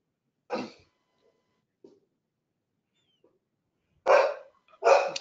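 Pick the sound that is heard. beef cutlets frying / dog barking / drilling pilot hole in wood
dog barking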